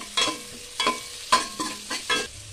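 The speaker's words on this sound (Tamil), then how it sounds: "எடுத்து வச்சுருக்கிற வெங்காயம் சேர்த்துக்க நல்லா வதக்கி விடுங்க" Chopped onions sauté in hot oil in a pan, sizzling softly while about five distinct stirring strokes scrape through at a steady rhythm, close and clear.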